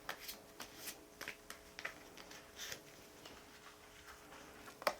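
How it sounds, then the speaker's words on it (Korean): Tarot cards are shuffled and handled up close in a quiet room, giving soft, irregular riffles and light taps at low volume. "좋은 카드 뽑아 보겠습니다."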